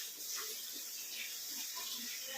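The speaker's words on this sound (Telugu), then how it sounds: "కొంచెం నీరు పోసుకోవాలి." Water poured into a cooking pan while making a homemade turmeric and ginger stew, a steady broadband splash and trickle running close and fairly quiet throughout, with no talk over it.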